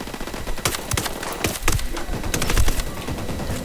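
Rapid gunfire from the video game Ghost Recon Wildlands, with dense bursts of automatic shots and single cracks rattling continuously, loud and close, with no talk over it.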